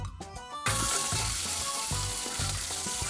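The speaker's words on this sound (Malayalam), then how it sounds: "എന്നിട്ട് ചിക്കനും ഈ ഒനിയനും ഒരുമിച്ച് വേണം നമുക്ക് സോട്ട് ചെയ്തെടുക്കാം." Chicken and onion sautéing together in a pan for ginger pepper chicken, a loud, steady sizzle that bursts in abruptly after a short moment and holds, with rhythmic thuds of stirring underneath and no talk.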